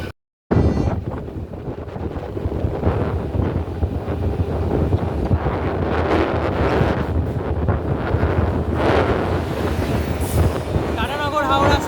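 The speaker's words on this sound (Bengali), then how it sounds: "Pune Howrah Azad Hind express parallelly overtake হচ্ছে ভাই পুরো।" The Pune-Howrah Azad Hind Express runs in parallel and overtakes, heard from a moving train: a brief silence, then a continuous loud rushing roar mixed with heavy wind buffeting that lasts to the end.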